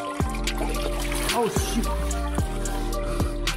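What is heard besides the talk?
coolant pouring out of Subaru Outback engine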